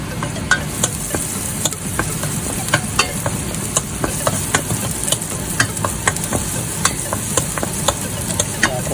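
Onion and garlic sautéing in a pan with salt, a steady sizzle and crackle interrupted by frequent short clinks and scrapes of stirring, close up, no talking.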